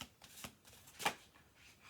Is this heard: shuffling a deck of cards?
yes